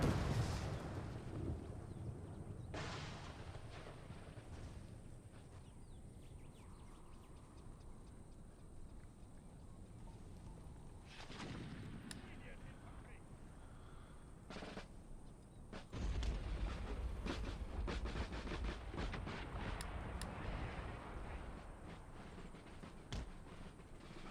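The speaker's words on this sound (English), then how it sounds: "Shooting cannon." Cannon artillery fires in the Empire Total War strategy game, a series of booming blasts spread across a busy battlefield din, with louder bursts clustering toward the end and no talk.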